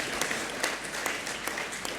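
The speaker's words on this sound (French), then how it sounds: "Ça s'applaudit" Dense audience applause at a ceremony in Abidjan where a parchment is presented to the Portuguese president, steady and continuous throughout with a few sharper claps standing out.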